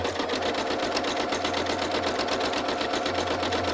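A sewing machine stitches quilting fabric, running continuously with a rapid, even mechanical chatter and a low motor hum, close and steady throughout.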